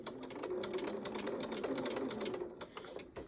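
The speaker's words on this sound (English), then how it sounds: "I'm going to bring it back a little, and I'm going to start to sew here." Sewing machine stitching a Y-seam through quilting fabric, running slowly in a steady rapid mechanical rattle close up, continuing alone with a slight pause near the end.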